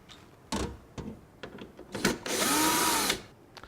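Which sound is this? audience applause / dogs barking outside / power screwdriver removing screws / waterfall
power screwdriver removing screws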